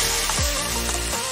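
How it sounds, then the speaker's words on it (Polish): Ham and cheese pieces coated in egg and flour fry in hot oil, a loud continuous sizzle with a few sharp crackles and pops. "Zobaczcie, jak skwierczy."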